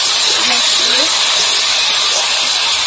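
Loud, steady broadband hiss of water poured into a hot pan of frying ginger, cumin and onion for khichuri, continuous sizzling with faint low voice traces underneath.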